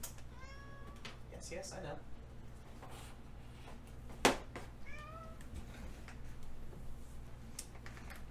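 A cat in Skyrim Special Edition gives two short, quiet meows a few seconds apart, with a sharp click between them. A voice speaks briefly.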